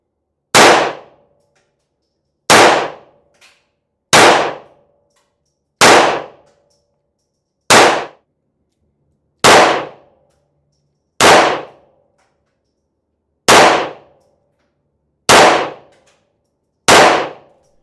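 Pistol shots at a shooting range, a handgun with a budget weapon light mounted: about ten sharp, loud reports fired singly at an even pace of roughly one every one and a half to two seconds, each decaying quickly, with no talk.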